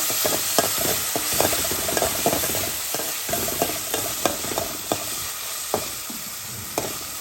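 Turnip curry cooks in a pan while being stirred, producing a loud, close, continuous sizzle punctuated by regular scraping strokes of a spatula.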